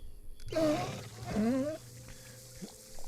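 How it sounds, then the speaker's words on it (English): A dog growls in the video game Pathfinder: Kingmaker, two rough rising growls close up and fairly loud over a steady low game hum, then quieter ambience. "That's the dog."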